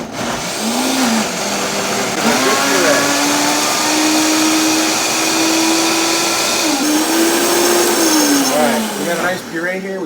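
A countertop blender purees Mexican black bean soup, a steady loud whirring motor that rises in pitch as it ramps up and holds for several seconds before winding down, with a voice briefly audible near the end.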